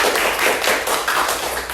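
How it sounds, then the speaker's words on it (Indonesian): A classroom group claps for another group's presentation, a brief burst of dense, close hand clapping that stays steady and fairly loud throughout. "tepuk tangan untuk kelompok elang"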